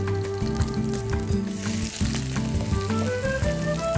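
Sliced onion sizzles in hot oil for a blue crab dish, a dense, continuous crackle that holds steady for the whole stretch, with low tonal sounds running underneath.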